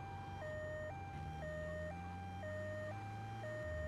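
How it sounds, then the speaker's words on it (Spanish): A police car siren in the GTA 3 video game wails in a steady two-tone cycle, alternating high and low roughly twice a second, loud and continuous over a low engine drone, with no talking. "Porque tengo las sirenas prendidas."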